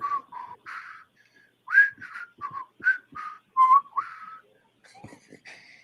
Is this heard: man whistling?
yes